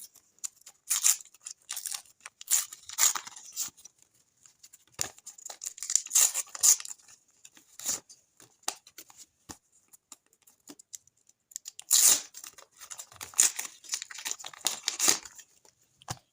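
Sticker collection packets torn open one after another, with sharp crinkling, ripping foil bursts in irregular clusters and short pauses between, close up with no talking.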